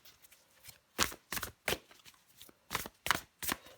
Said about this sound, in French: je prends encore une carte pour vous les Capricornes